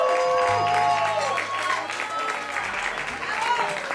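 Audience applause at a live concert in Cervecería Brújula, a steady wash of clapping throughout with crowd noise and tonal music or a voice underneath.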